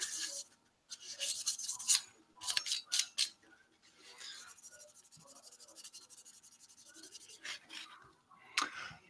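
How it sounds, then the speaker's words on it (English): Cloth swipes of isopropyl alcohol across desktop PC parts, making close, dry rubbing and scrubbing strokes in several quick bursts with short pauses between, no talking. "Here's a couple swipes of isopropyl alcohol."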